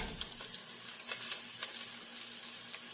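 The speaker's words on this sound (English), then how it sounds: "I'm going to burn some of my turmeric right now with it" Turmeric sizzles in hot oil in a pot for curry grouper fish head, a soft steady frying hiss with faint crackles and a low background hum.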